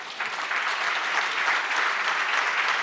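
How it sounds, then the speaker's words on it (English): An audience at a book launch claps for a high-level panel, a sustained, fairly even round of applause at moderate loudness with no voices over it. "that's not how you clap for such a high-level panel"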